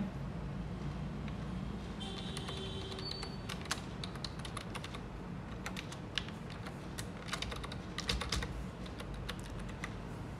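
Keys on a computer keyboard are tapped as a username is entered for a GST login, giving a quiet, irregular run of clicks over faint background traffic hum.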